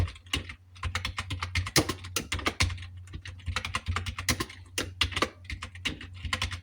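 Fast, steady tapping on a computer keyboard while entering Hindi text, with dense clicks in bursts and brief pauses, close and clear, with no voices.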